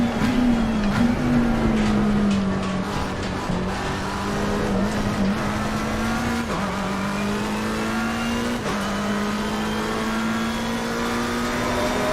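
Race car engine in a sim racing game, tonal whine steady and loud throughout, with a faint scraping hiss as the right front tyre locks under braking into turn 6; no talk over it.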